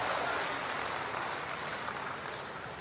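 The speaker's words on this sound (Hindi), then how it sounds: "एक जोरदार ताली बजा दीजिए" Audience applause at a Uttar Pradesh government event, a steady wash of many hands clapping at moderate distance, sustained evenly throughout.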